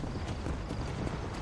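Horse hooves galloping in the Western video game Red Dead Redemption, a steady fast clatter under continuous game noise and a voice.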